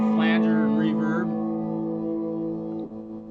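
A sustained electric guitar chord swirls with a sweeping, whooshing modulation and lingers in reverb, fading slowly before a brief dip near the end.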